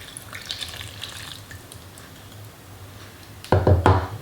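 Lukewarm water is poured into a bowl of bread dough ingredients for bagels, a steady liquid pour that swells into a louder, splashing burst near the end, close up and with no talk.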